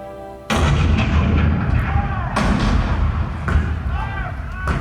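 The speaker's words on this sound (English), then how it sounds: "The cannon spoke for war, bitter, violent, and devastating." Cannon fire at Fort Sumter in a staged theme-park presidential show, several booming blasts at irregular intervals with rumbling tails, loud and close, amid dramatic narration and music.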